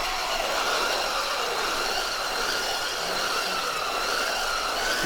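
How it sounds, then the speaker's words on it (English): A radio-controlled car's electric motor whines steadily and loudly at a park, a dense continuous buzz with faint tonal lines running through it and no voices. "You can hear the motor cog up when you start it up."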